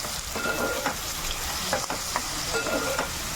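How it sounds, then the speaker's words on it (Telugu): Onions with dried shrimp frying in hot oil give a steady, close sizzle, broken by several soft scrapes and clicks from a spatula being stirred through the pan. "ఉల్లిపాయలు వేసుకుని బాగా వేగిన తర్వాత"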